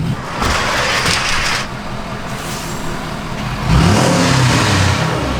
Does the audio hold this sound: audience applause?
no